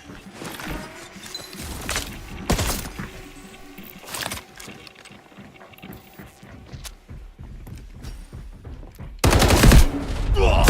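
Enemy gunfire in the Delta Force shooter game, with repeated sharp bursts of rapid shots in clusters across the scene and a loud, dense volley near the end, set against busy in-game background noise.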